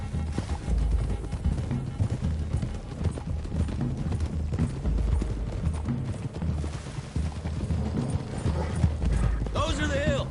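Horses in Red Dead Redemption trot along with quick, steady clip-clop hoofbeats close by, joined by creaking tack, while voices talk over the riding.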